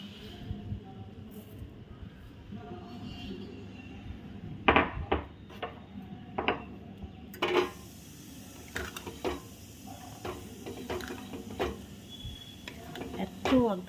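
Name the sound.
stirring fried spices into mango pickle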